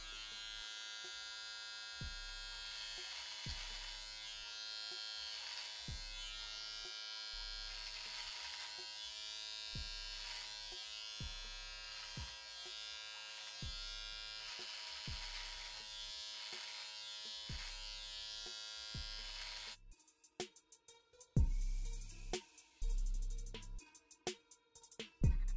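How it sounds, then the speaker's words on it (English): Andis Slimline Pro Li cordless clippers buzz steadily while trimming and lining up a beard, a close, continuous electric whine with rhythmic pulses, then choppy on-off bursts near the end. "I'm going to do a strictly Slim Line Pro so I can show you guys how these clippers really, really hit, how they really cut"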